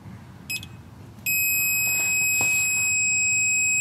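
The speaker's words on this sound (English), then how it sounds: "the very first beep that you hear, that's 10 foot-pounds registering" A digital torque wrench beeps while loosening a stripped oil drain plug: a brief double beep, then a steady continuous high tone that holds to the end over low background noise.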